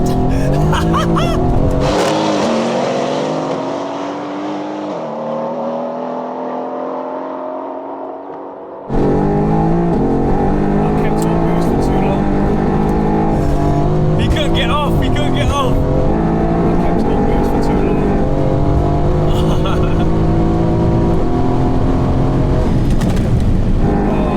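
An 800HP Stage 3 Mercedes C63 AMG and a 750HP Stage 2 AMG GTR drag race, engines revving hard through rising gear pulls, loud and close, with excited voices talking over the roar.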